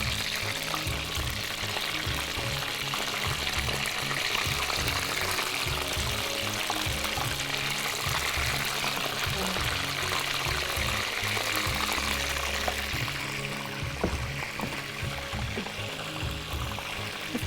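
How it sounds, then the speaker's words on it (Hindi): Food frying in a pan of oil with batter, a continuous crackling sizzle that holds steady throughout at moderate volume, with no voices. "इसको हम फ्राई करेंगे"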